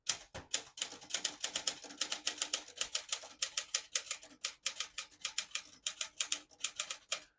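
Rapid, steady clacking of the keys of a 1974 Olympia Traveller De Luxe portable typewriter, a dense run of sharp strikes close up with only brief pauses, and no voices.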